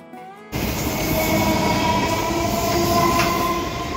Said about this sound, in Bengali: কাঁটায় কাঁটায় 8:30 বাজতেই ট্রেন ছেড়ে দিল শিয়ালদা স্টেশনের 12 নম্বর প্ল্যাটফর্ম।